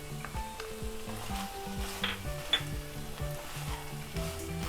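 Two medium onions, finely chopped, hit a hot pan for a Kerala-style kadala curry and crackle in a lively close sizzle with a few stirring scrapes, over soft background music.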